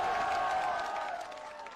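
A crowd at a Chirag Paswan political rally in Mahua breaks into loud applause and cheering, which fades over the next couple of seconds.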